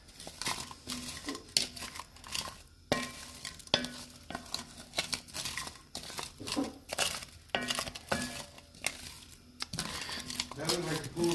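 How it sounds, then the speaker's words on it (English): Vegetables being stirred with minced garlic and butter in a soup pot, a close run of scraping, clattering stirs with a soft sizzle underneath, with brief voices now and then in the background. "I'm just going to stir this up because I want to get our minced garlic and our butter all over our vegetables here."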